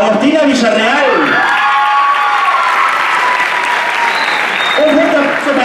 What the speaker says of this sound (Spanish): Un fuerte aplauso para Agustina Villarreal